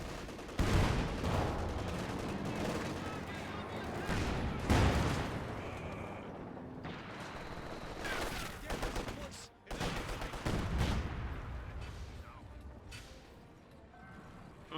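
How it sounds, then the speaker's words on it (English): Rocket barrage and gunfire from Company of Heroes, a World War II strategy game, with a Panzerwerfer launching repeated volleys while machine guns and artillery crackle around it, loud and dense across the whole stretch, one brief lull near the middle. "Werfer's now firing again."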